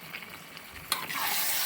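Assamese dhaba-style pork curry sizzles in a pan, then a sudden stir sends up a louder, hissing burst of frying that carries on to the end.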